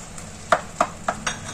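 Crumbled fried scrambled egg being stirred into egg tadka in a pan, four quick, evenly spaced scraping clinks of a spoon over a faint sizzle, close by.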